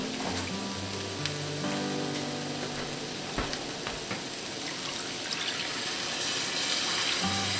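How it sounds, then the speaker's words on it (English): Broth and milk pour into a hot cast iron skillet of venison hamburger mixture with tomato paste, hissing and sizzling steadily, with a bubbling wash of liquid and faint stirring scrapes throughout. "And then we're going to add our broth and our milk."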